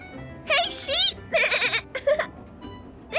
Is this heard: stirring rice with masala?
no